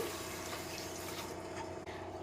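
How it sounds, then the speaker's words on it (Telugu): Water poured from a small vessel onto sugar to make syrup for gulab jamun, a steady close hiss of liquid with no voices. "ఈ చిన్న చెంబు ఉంది కదా, దీంతో ఇప్పుడు మనం వాటర్ అనేది దీన్ని షుగర్ని తడుపుకుందాం"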